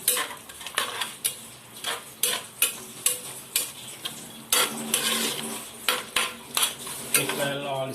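A spoon stirs cut potatoes and spices in a chicken curry pot, making about a dozen rhythmic metallic scrapes and clanks with a soft sizzle between strokes.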